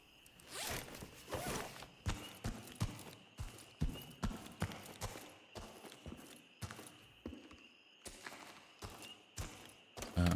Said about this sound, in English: I'm trying to listen to footsteps, and I believe I do hear the enemies to the right.